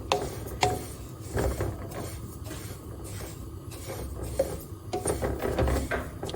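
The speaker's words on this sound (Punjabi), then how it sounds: "ਇੱਧਰ ਪੁੰਨ ਰਹੇ ਹਾਂ ਜੀਰਾ" Cumin seeds dry-roasting in a pan give off repeated scraping and clinking as they are stirred, with soft rattling and rubbing at close range and no talk.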